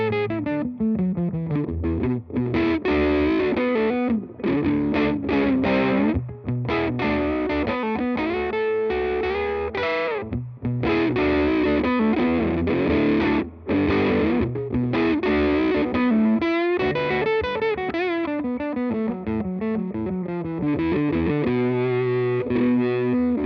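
An electric guitar plays through a Swiss-made RhPf Electronics distortion pedal set to its mids position, giving a continuous loud, thick, saturated sound of sustained chords and riffs with no talk.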